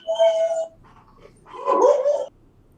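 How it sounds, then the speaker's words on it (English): A dog whimpers and yips near a microphone during a commission meeting in two short bursts, a high whine followed by a longer wavering yelp, with quiet room noise between. "dog is going to voice his support for that"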